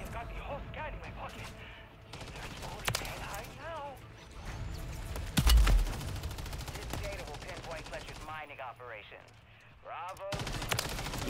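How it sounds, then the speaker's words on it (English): Revolver gunfire in MW3 Zombies, fired rapidly like a semi-automatic pistol by an enemy carrying a shield, with sharp repeated shots and a heavier blast midway, heard beneath continuous talking. "this dude with the shield is shooting a stupid revolver and he's shooting it like it's a stupid semi-automatic pistol"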